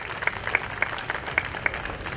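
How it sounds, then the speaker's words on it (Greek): An outdoor audience at an event in Davaki Square, Kallithea, applauds itself, a dense wash of clapping with a few sharper, louder claps standing out. "θα ήθελα να χειροκροτήσετε εσάς, τον εαυτό σας"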